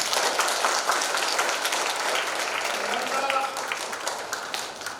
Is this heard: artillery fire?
no